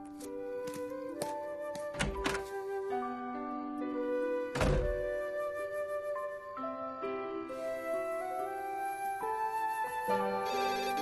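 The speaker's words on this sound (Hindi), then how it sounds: "mister Thadani, phone" A telephone rings in a repeating electronic melody over music, with two heavy thumps partway through.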